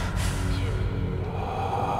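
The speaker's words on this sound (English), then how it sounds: "There's a lot of breathing in my ear." Breathing sounds in the video game Fallout 4, heard during a vault decontamination and freezing sequence, form a steady, close, breathy hiss with soft gasps under a continuous low hum.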